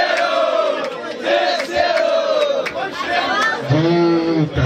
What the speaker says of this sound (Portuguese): Mão pro alto e barulho Pelé